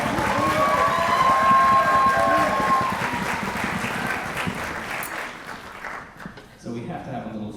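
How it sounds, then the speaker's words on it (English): Audience applause at a Palisades High School Orchestra winter concert, a dense crowd clapping that fades out near the end, with a sustained tone lingering early on and a few voices and movements as it dies away. "Give them another round of applause."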